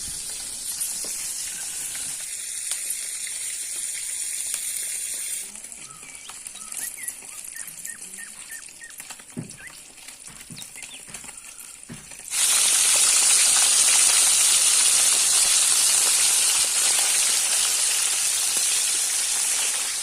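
Small fish frying in hot oil in a village kitchen, a steady crackling hiss and patter that thins out midway, then returns loud and dense, with no talking.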